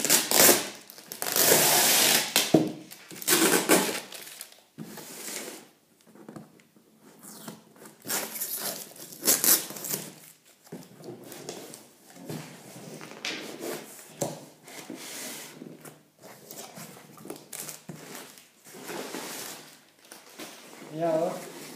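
A parcel holding a Sharkoon gaming headset is opened by hand, with bursts of rubbing, scraping and crushing cardboard and packaging, loud in places and broken by quieter pauses.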